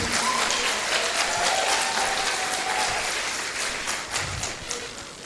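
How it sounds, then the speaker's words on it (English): A room full of people claps for an honoree at a university World Environment Day ceremony in Okada. The applause is sustained and crowded for several seconds, then tapers slightly toward the end. "Please, can we give her a round of applause?"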